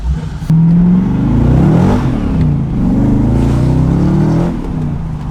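A loud, freshly tuned LS1-swapped Nissan Z32 engine revs up and holds a high, throaty drone. The pitch rises and falls as the throttle is worked, close and dominant.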